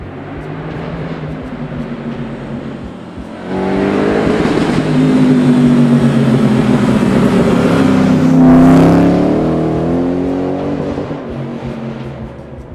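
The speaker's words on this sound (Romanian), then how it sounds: "urechea e plină de răgete V8" Ford Mustang GT V8 engine roaring loudly and close, building from a steady rumble into a rising rev that peaks and then eases off, with no talk over it.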